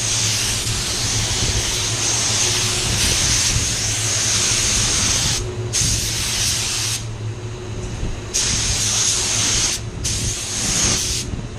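A spray gun lays water-based paint over a replacement quarter panel on a Range Rover, a steady close hiss broken by short gaps as the trigger releases, with a low booth hum underneath.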